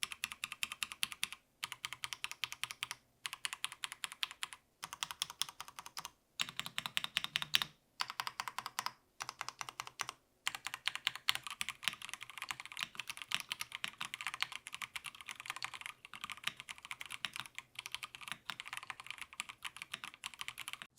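Rapid keystrokes on a cheap wired mechanical keyboard with lubed stabilizers, close and crisp, typed in steady bursts separated by brief pauses, with no talking over it.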